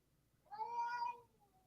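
A cat gives one clear, drawn-out meow, fairly faint and heard alone against a quiet background.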